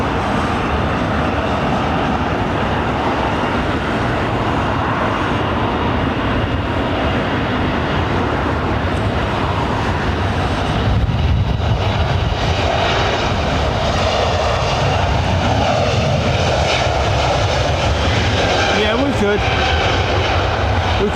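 Jet aircraft engines at London Heathrow Airport roar loud and steady throughout, swelling slightly partway through, with a person speaking briefly over the noise.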